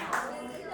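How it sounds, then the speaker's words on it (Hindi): Brief, soft clapping from a small audience at an Antakshari song game, a dull wash of hands under faint background noise. "तो एक बार आदित्य के लिए तालियां बजा दें।"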